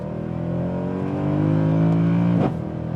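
A Mercedes-Benz C63 AMG engine accelerates hard. The steady, loud engine note climbs in pitch for over two seconds, then cuts sharply as the gear shifts and resumes lower. It is heard close up from inside the car, with no talking.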